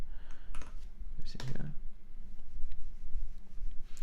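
Computer keyboard being typed on while entering a 24-word mnemonic for validator keys, with soft, irregular clicks and a few louder keystrokes under low whispery voice and background noise.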